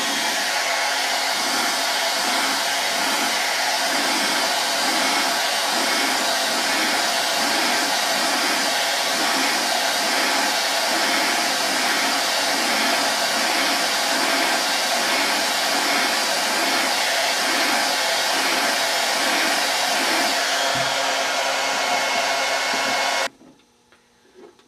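A heat gun or hair dryer blowing steadily close by as it heats a vinyl decal, a loud continuous whooshing roar with a slight pulsing flutter that stops abruptly near the end.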